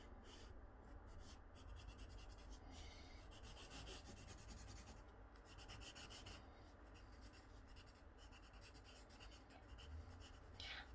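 Oil pastel drawing on paper, a continuous dry scratchy rubbing with short strokes and brief pauses, close and faint.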